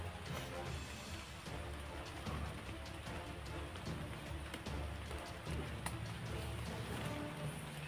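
Steady rain patters continuously on a surface, a dense, even hiss with faint low rumbles underneath, fairly quiet throughout.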